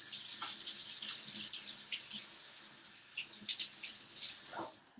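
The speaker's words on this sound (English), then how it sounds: "Now, wash my hands real quick." Running tap water splashes over hands being washed at a kitchen sink during pretzel baking. The hiss of the flow is continuous, with small splashes and drips, close and moderately quiet, and no one speaks.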